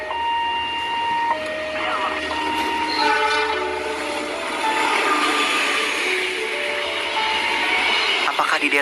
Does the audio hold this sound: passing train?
yes